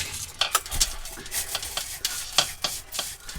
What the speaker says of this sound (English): Let me just give that a quick rinse.